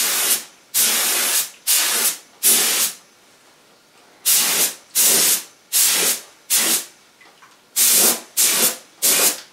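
A spray can hisses in a series of short, loud bursts while painting the sides of an ES-335-style guitar body, grouped with brief pauses between them, close to the listener.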